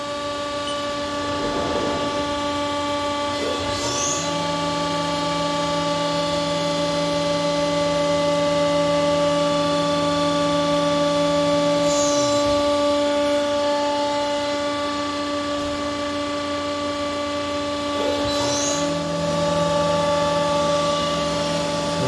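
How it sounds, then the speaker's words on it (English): A WNT Ceratizit 3.3 mm deep-hole drill, 30xD and about 4 inches long, bores a whole row of holes: a steady machine whine whose pitch dips and rises again in a cycle about every seven seconds, with no talk. "We're gonna let it drill a whole row."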